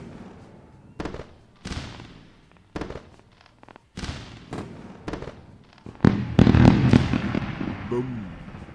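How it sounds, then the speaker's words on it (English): Fireworks sound effect played during a live day-trading giveaway stream: a series of sharp pops and bursts, sparse at first then building into dense crackling, loud and close, with a voice talking briefly during it. "We're gonna run some fireworks."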